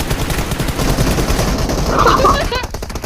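Rapid automatic gunfire in the PUBG battle royale game rattles on continuously and loudly, with voices talking over the steady stream of shots.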